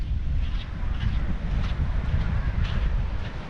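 Sea wind blows steadily at a beach in Sri Lanka, buffeting the microphone with a low continuous rumble and faint hiss.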